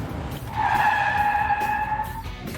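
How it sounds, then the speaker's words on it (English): A classic Corvette's tires skid under hard braking on the road, one sustained squeal lasting about a second and a half, loud and close over engine rumble. "Check out our brakes."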